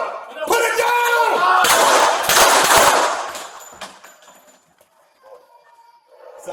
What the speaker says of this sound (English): Shots fired by the police.